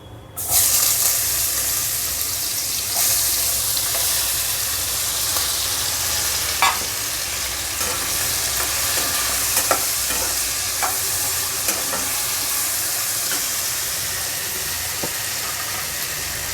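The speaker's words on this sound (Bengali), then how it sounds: "আলুটা একটু ভেজে নিচ্ছি আলুর সঙ্গে একটা পেঁয়াজও দিয়েছি" Potatoes with onion sizzle steadily in a pan, a continuous close frying hiss with occasional clicks and scrapes of stirring and no talk.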